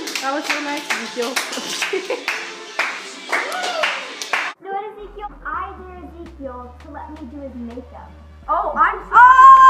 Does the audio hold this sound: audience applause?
yes